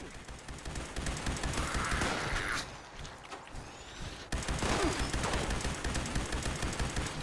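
Gunfire in the video game Fallout 76 while fighting enemies: dense rapid bursts of automatic fire, loud and continuous, with a brief lull midway before another sustained barrage.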